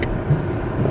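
Car pulling out of a home driveway, a brief steady low engine rumble close by with no other sounds over it.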